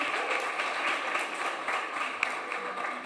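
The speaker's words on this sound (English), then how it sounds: "So another round of applause for them" Steady applause from an audience at a magazine issue premiere, praising the performers of a contest-winning play; dense, continuous clapping at moderate level with a few sharper claps standing out.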